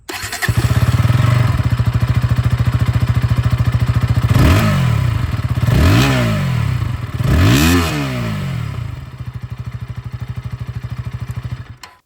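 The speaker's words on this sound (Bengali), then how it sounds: "এক্সস্ট সাউন্ড আপনাদের শুনিয়ে দিই, আন্ডারবিল এক্সস্ট আগের মতন এখনও আমরা পাচ্ছি" A 2026 KTM Duke 160 motorcycle with an underbelly exhaust idles with a steady low throb, then its engine is revved three times in quick swelling bursts before settling back to idle.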